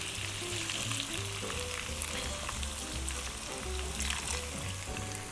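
Food fries in a pan of oil after a little water is added, giving a steady, fairly quiet sizzling hiss with soft crackles, while faint music plays underneath.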